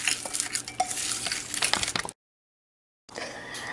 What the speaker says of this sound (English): Mix them until the butter is fully incorporated into the cookies.